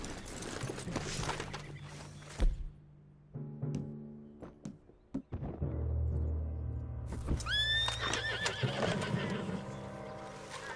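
A horse in the video game Red Dead Redemption 2 lets out a loud, close neigh, with clip-clopping hooves and thuds before it and rustling game ambience around it.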